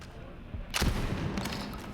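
Gunfire from a single-shot weapon in the Borderlands 3 video game: one sharp report around the middle of the clip, then a short decaying tail over low background noise.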